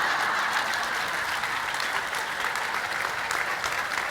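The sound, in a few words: audience of women applauding and cheering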